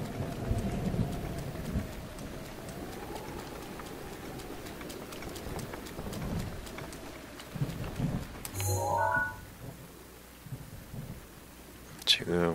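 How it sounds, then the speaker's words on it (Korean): Rain and thunder from a lightning storm in the video game Zelda: Breath of the Wild, a steady wash of rain with low rumbles, a brighter burst near the end, and talk heard over it. "날씨가 순식간에 번개로 바뀌었습니다."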